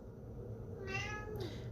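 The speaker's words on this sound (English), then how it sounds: "That's my cat, Axel." A male house cat gives two short meows close by, the second a bit higher, over faint background noise.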